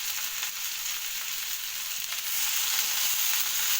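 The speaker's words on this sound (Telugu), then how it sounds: "చూడండి పుదీనా వేస్తున్నాను స్టవ్ ఆఫ్ చేసే ముందు. మొత్తం వేసుకొని ఒకసారి మిక్స్ చేసుకోవాలండి." Fresh mint leaves for mint chutney sizzle in a hot pan while being stirred, a continuous close hiss of frying with faint scraping and no talking.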